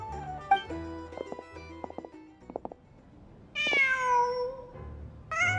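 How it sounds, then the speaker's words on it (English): A cat meows in Genshin Impact: after some soft clicks and low background tones, a loud, drawn-out meow rises and falls up close, followed by the start of another call. "Just a cat."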